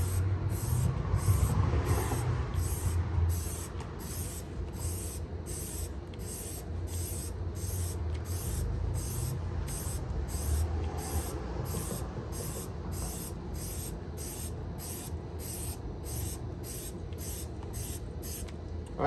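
K&N air filter oil sprays onto a Ford Bronco air filter in a long series of short, regular hissing bursts, close and fairly quiet.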